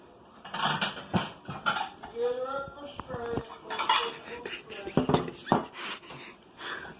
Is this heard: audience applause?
no